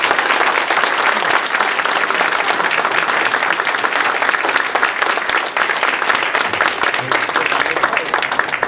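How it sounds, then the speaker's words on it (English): Loud, sustained applause from the audience at a Morris County Distinguished Military Service Medal Ceremony honoring veterans, dense and even from start to finish with no break. "I'd like to give you one round of applause for every veteran"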